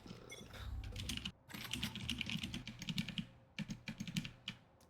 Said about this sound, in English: your keyboard is amped in the recording